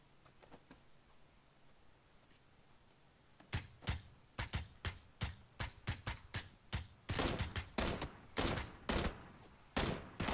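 Video game firefight gunfire, starting after a quiet stretch with a rapid series of loud, sharp shots in uneven bursts, some doubled or clustered, continuing to the end.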